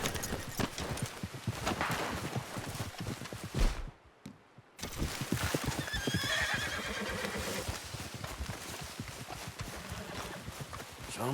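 A galloping horse in Red Dead Redemption 2 pounds along in a fast, steady hoofbeat rhythm, loud and close, cut by a brief near-silent gap, with a faint whinny.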